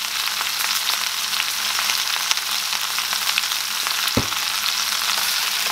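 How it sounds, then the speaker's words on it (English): Salmon seasoned with lemon pepper sears in a hot oiled pan, giving a steady, loud, close frying hiss with one brief bump near the end. "Get a quick sear in."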